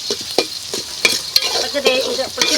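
Green chillies and curry leaves fry and sizzle in a pan for papaya pickle, with a steady hiss broken by sharp scraping stirs and pops at irregular intervals.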